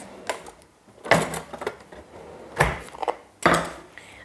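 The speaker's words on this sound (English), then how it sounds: "I'll just chop the root off" A knife chops the root off a beetroot on a board. Several separate close knocks and scrapes fall at uneven intervals, with clattering kitchen handling in between.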